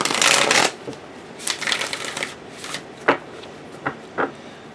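Tarot cards are riffled and shuffled close up, a loud burst at first followed by softer scattered flicks and taps as the thick deck is handled.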